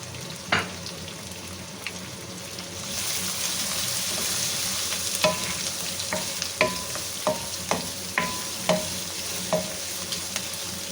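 Two chopped onions sizzle steadily in a hot pan on high heat, with occasional sharp scraping clicks of a utensil stirring them; close and fairly quiet, no voices.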